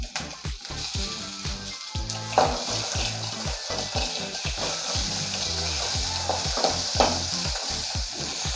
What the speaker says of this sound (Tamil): ஏலக்காய், சர்க்கரை, குங்குமப்பூ, பாதாம் பருப்பு, முந்திரி பருப்பு, நெய் ஊற்றி வறுத்துக்கிறோம்.